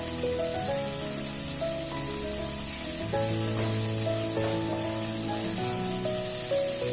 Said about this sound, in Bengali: অল্প অল্প পরিমাণে জল দিয়ে আমি ঢাকা দিয়ে 5 মিনিটের মতন আমি মশলাটা কষিয়ে নিচ্ছি।